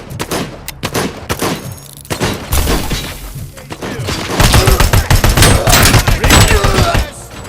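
Rapid bursts of gunfire in the RoboCop Rogue City video game, loud and close, with sustained volleys and sharp impacts layered over battle noise.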